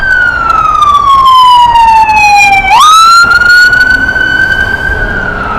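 An ambulance siren passes close by at a busy airport, its loud wailing tone sliding down, dropping sharply as it goes by, then holding steady and fading slightly as it moves away.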